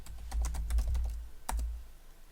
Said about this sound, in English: we'll type QR code